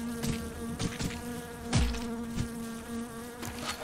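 Flies or bees buzz in a video game, a continuous close insect drone with a few soft thuds and clicks mixed in.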